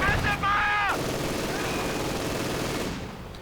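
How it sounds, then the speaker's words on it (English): An MG42 machine gun in a 1v1 video game match fires armor-piercing incendiary rounds in one sustained, dense rattling burst. It is loud and close, follows a brief tonal sound, and trails off near the end. "MG42 setting up here, awfully close, and setting up with armor-piercing incendiary rounds."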